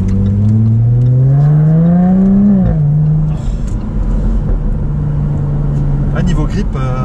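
A GT car's engine drones loud and close from inside the cabin, rising in pitch as it accelerates, dipping, then settling into a steady cruise.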